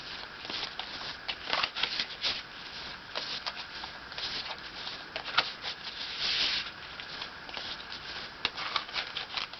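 Tarot cards from the Whispers of Love deck being shuffled in a steady, close, soft papery patter of riffles and slides, with no voices over it.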